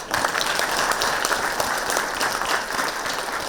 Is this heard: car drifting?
no